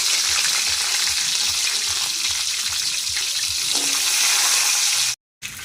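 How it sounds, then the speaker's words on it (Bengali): Giant river prawns sizzle and crackle in hot oil in a wok, a loud continuous frying hiss with faint stirring, ending in a brief cutout. "এবার গলদা চিংড়িগুলো এক এক করে দিয়ে দিচ্ছি"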